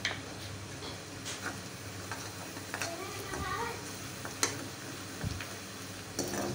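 Ground spices, crushed chili, Kashmiri red chili, coriander and turmeric roasting in a pan for bhindi masala, a soft steady sizzle with occasional spoon scrapes and taps against the pan.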